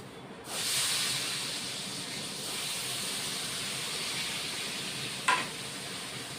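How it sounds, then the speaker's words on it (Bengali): Pointed gourd (potol) pieces dropped into hot oil, a sudden hiss rising into a steady sizzle that holds close and even, with a brief sharp clink near the end and no talk. "এবার পটলটা ভেজে নিই"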